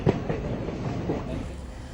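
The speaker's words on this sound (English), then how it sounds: "On board Shramik train with Ashutosh, Bureau Report, India Today." A Shramik passenger train rolls along the rails, a steady low rumble with faint rhythmic clatter from the wagons, continuous and fairly close throughout.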